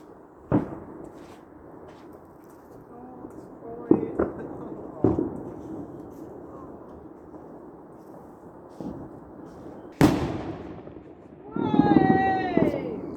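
Fireworks go off in scattered bursts: single sharp bangs, then a crackling, whistling cluster near the end. They sound moderately distant over a low outdoor background.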